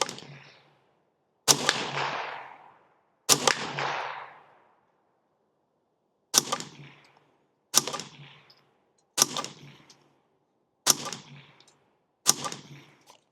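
Derya TM22 .22 LR rifle fired outdoors at a distant steel target: eight sharp, loud shots in an uneven rhythm, each followed by a short ringing decay, with no talking.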